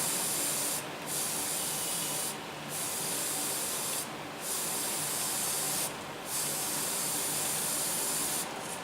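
Aerosol spray hissing steadily in long bursts, close by, while burnishing the exhaust pipe of a Tamiya Williams FW24 F1 model car, with brief pauses between roughly five sprays.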